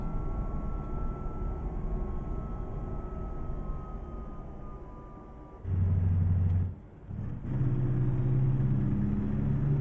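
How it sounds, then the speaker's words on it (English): A truck's automated engine brake engages while cruising at speed, a steady low engine drone that shifts into a louder, deeper retarder rumble, briefly dips, then resumes strongly over continuous road noise. "Automated engine brake, away!"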